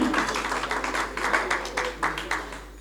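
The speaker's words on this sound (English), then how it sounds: "Give a big round of applause for Sir Ahmed Abbasi" Clapping breaks out at a student certificate and shield ceremony to honour a judge, a mid-level patter with irregular sharp claps standing out, lasting about three seconds.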